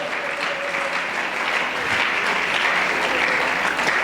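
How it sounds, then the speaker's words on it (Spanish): Church congregation applauding during a Sunday school service, a dense, sustained clapping that fills the room at steady loudness for several seconds, with no clear speech. "Alguien que aplauda la gloria de Dios en esta mañana."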